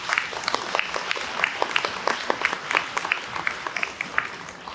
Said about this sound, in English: Let's give our new students a round of applause.